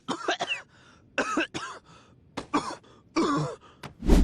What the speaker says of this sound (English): Guess I'll just go back to coughing.